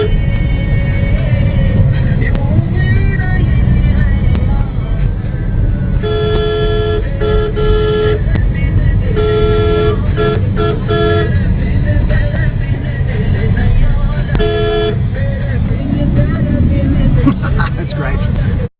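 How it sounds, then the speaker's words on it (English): Dense, congested city traffic in India roars continuously, with car and bus horns honking in repeated long and short blasts over the engine din and a murmur of voices. "Cars navigate at high speeds through the congested roads"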